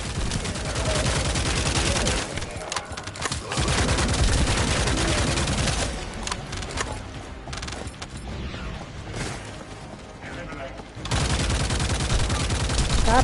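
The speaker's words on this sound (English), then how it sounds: "Stop shooting at me, okay?" Gunfire in the sci-fi shooter The First Descendant: dense bursts of rapid shots and mechanical clatter, loud and continuous with a few short lulls, with some talk mixed in.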